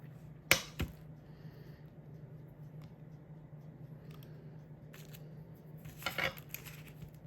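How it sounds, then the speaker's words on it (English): Glass nippers snipping small pieces of glass for a fused glass scene, with two sharp close snaps near the start and another cluster of crisp clicks later over a quiet room hum. "to make your nippers go parallel and just kind of randomly cut"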